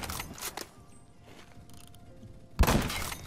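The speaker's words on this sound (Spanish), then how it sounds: "Eso ha sido un par de disparos bastante bueno" Two sniper rifle shots fired in the Phantom Forces shooter game: two sharp bursts early on, a quieter stretch, then a louder blast near the end. No one speaks.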